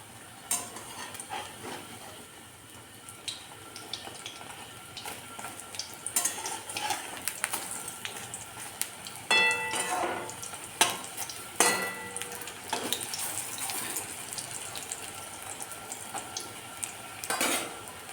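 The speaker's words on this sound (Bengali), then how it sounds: "কড়াইতে তেল দিয়ে তেলটা গরম করে নিয়ে পেঁয়াজির মতন চ্যাপটা চ্যাপটা করে বড়াগুলোকে ভেজে নেব" Flat onion and lentil fritters (bora) fry in hot oil in a kadai, giving a steady low sizzle that runs throughout, broken by clinks and scrapes of a utensil against the pan.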